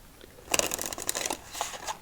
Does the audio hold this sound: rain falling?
no